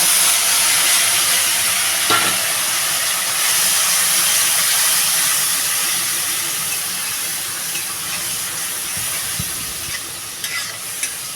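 Coriander powder, cumin powder and grated tomato fry in hot oil for a Bengali pabda fish curry, making a loud, continuous hiss with faint stirring scrapes and no talking.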